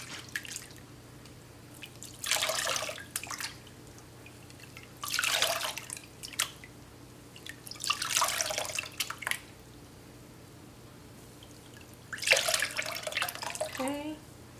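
Raw hair extensions dipped and swished in clean water, four bursts of splashing and dripping spaced a few seconds apart, close and moderately loud over a low steady hum, with no speech.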